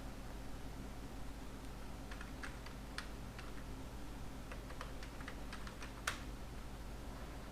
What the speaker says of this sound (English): Only one tab we will press.